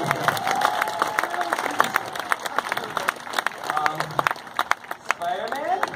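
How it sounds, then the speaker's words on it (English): A crowd at a live stage show claps and cheers, with scattered sharp claps, shouts and chatter rising and falling unevenly throughout, and louder isolated claps near the end. "Big round of applause for him."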